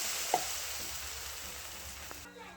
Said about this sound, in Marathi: त्याच्यात टाकू आता पाणी